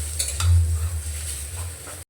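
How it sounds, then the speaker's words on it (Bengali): An oil-free roll filling being stirred and mixed with lemon juice in a pan: close scraping strokes with a few light clinks of the spoon against the pan, quick and brief, with no speech. "ভালো করে আবার নাড়াচাড়া করে মিশিয়ে নেব।"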